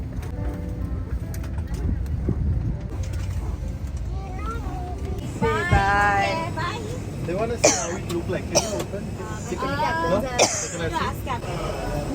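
A person coughs after landing from a flight. A few sharp coughs break through ongoing conversation and nearby voices.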